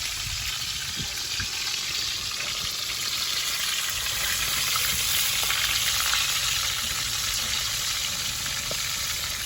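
Tilapia frying in hot oil in a pan, a dense, steady sizzle with crackles and pops, close and loud, holding constant throughout with no talking.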